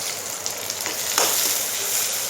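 Onions fry in hot oil in a pan for a small-fish curry, giving a steady bright sizzle with a few crackling pops, close and continuous with no talk.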